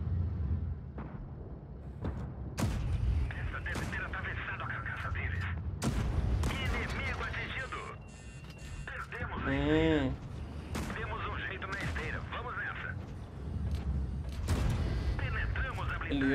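In an online tank battle game, heavy cannon shots boom with sharp, loud cracks at irregular intervals over rumbling engine and battle noise, while someone talks through much of it.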